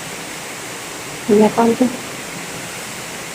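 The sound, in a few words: heavy rain falling during a flood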